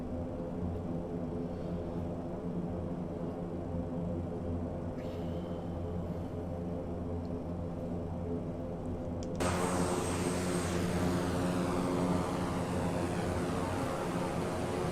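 Simulated DHC Dash-7 four-engine propeller aircraft in a flight simulator, a steady low droning rumble that swells suddenly partway through into a louder, brighter engine roar with a high whine, no voices.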